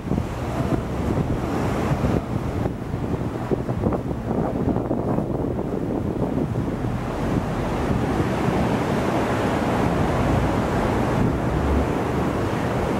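Waves and surf roll at China Beach in steady, continuous roar. Wind buffets the microphone throughout.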